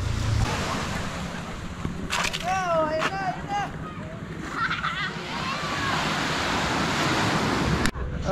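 Ocean surf rolling onto a white sand beach at Puerto Galera in the Philippines, a steady wash of waves throughout with a few faint whistling or voice-like sounds layered over it.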